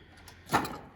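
A drawer on a MATCO 4S tool box slides open with a short rolling scrape that swells briefly, close by and without talk.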